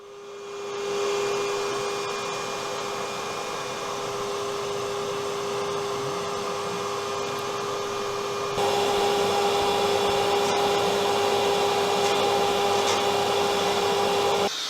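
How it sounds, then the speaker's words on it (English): An industrial vacuum cleaner drones steadily while hoovering rust flakes, dust and debris out of a steam locomotive boiler, a constant loud whine with a slight step up in intensity partway through, and no voices. "a second cleaning session was undertaken to dislodge and hoover up any remaining rust flakes"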